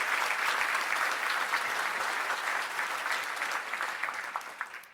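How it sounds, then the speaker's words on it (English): Sustained applause from an audience at a sheriff's office law enforcement awards ceremony, a dense, even wash of clapping that holds for several seconds before thinning slightly near the end. "A round of applause for all of these nominees."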